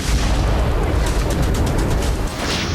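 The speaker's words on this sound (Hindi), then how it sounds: "जोरदार धमाका हुआ" A Houthi drone explosion in Tel Aviv at night comes through as a dense, continuous roaring blast of noise that stays loud throughout, with no clear separate bangs and no talking.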